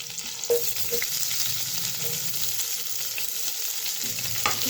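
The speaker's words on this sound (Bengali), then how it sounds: "তো এই তেলের মধ্যে দিয়ে দেবো আমি রসুন কুচি আর পেঁয়াজ কুচি।" Chopped garlic and onion frying in oil, a dense, even sizzle held for several seconds with occasional light stirring clicks, close and unaccompanied by talk.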